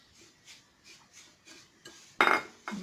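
A utensil stirs melted butter in a bowl, scraping and clinking against its sides in a quick, regular rhythm, ending in a few louder knocks up close.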